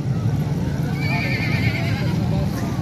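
Horses at a large animal fair give a loud, wavering whinny over a constant crowd din and hoof clops, with people talking nearby.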